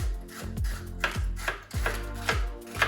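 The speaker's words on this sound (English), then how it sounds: "we're going to just chop some red onion down" A knife chops red onion on a cutting board in a steady rhythm of about six firm thuds, close and clear, with no talking.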